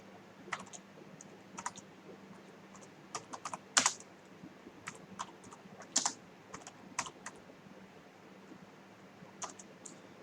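Typing on a computer keyboard, quiet irregular key clicks and a few louder taps scattered over a soft background hiss, close but faint with no voices.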